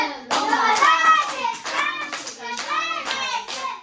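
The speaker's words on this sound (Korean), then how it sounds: "박수 치면서요" Children clap their hands steadily while chanting a Bible verse together at a children's church class, bright young voices running over the claps throughout.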